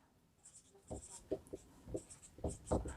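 Writing an answer for a class 9 maths problem on number systems, a string of short, scratchy strokes in quick irregular bursts, close and fairly clear.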